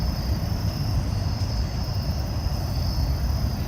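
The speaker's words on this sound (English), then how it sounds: "I hear crickets." Crickets chirp in trees at night, a dense, steady high trill that fills the whole stretch, with a constant low rumble underneath and no voices.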